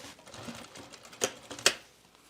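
Sewing machine stitching a seam on the inside of a bomber jacket, a soft whirring run punctuated by two sharp, louder mechanical bursts near the end.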